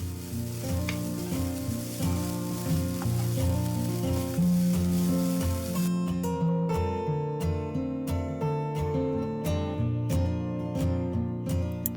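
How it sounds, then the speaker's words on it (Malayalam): Grated coconut dry-roasts in a hot pan over a medium flame, a steady sizzle and crackle with spoon stirring and scraping throughout, the scraping sharpening into rhythmic strokes in the second half, no talk. "നമുക്കിനി ഇതിലേക്ക് തേങ്ങ ഇട്ട് കൊടുക്കാം. ഒരു മീഡിയം ഫ്ലെയിമിലിട്ടിട്ട് ഇത് ഇളക്കി കൊടുത്ത് നല്ലൊരു ബ്രൗൺ കളർ ആവുന്നിടം വരെ ഇത് വറുത്തെടുക്കണം."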